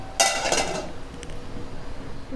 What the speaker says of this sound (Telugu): మళ్ళీ మూత పెట్టుకుందాం